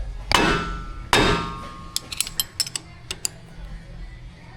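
A compressed-air impact wrench tightens a drain plug onto a copper crush washer on a car's oil pan: two loud hammering bursts, then a quick string of sharp, short ratcheting clicks that fade into a quiet workshop hum.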